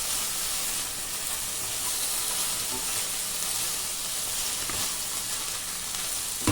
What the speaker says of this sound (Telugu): చిక్కుడుకాయల్ని నూనెలో వేగనివ్వండి.